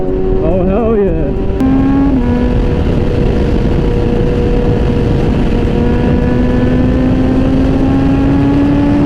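A scooter engine running loud and close, holding a steady drone with a rising whine and wind buffeting the microphone, and a person talking briefly near the start.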